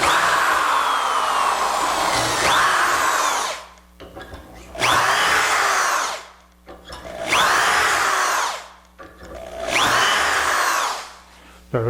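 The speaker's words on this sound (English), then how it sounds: "now in this case we're going to drill 6 holes" A power drill bores holes in wood for mitered dowel joints, running in four loud bursts of a few seconds each, with whining spin-up and short pauses between holes.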